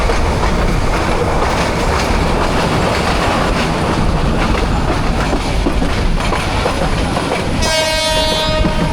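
Dhaka Mail passenger train running from Chattogram to Dhaka, with loud continuous clickety-clack of wheels and carriage rumble throughout, and a horn-like tonal blast near the end.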